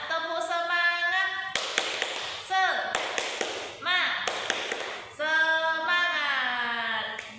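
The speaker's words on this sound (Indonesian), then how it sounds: "Biar semangat dulu, kita tepuk semangat." A classroom group performs the tepuk semangat clapping chant, bursts of rhythmic claps alternating with sung and spoken chant phrases, voices prominent over the hand taps.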